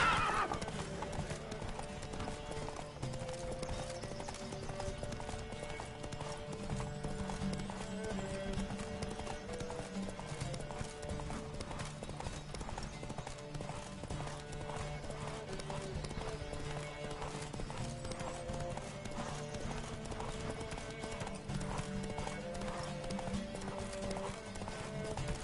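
Horses gallop in a race in the video game The Witcher 3, a steady, dense clip-clop of hooves running throughout under a continuous game soundscape.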